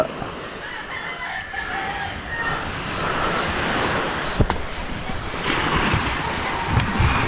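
Strong sea waves breaking on the shore, a broad continuous surf roar with wind swelling louder toward the end, heard from the seaside where fishing boats are moored, a rooster crowing faintly in the distance.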